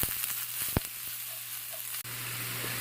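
Onion frying in about two tablespoons of hot olive oil, a steady moderate sizzle with a sharp clink early on and a brief dropout before the hiss resumes.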